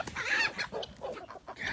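Chickens cluck in short, uneven bursts nearby, outdoors in an orchard, with several separate calls over a couple of seconds and no talk.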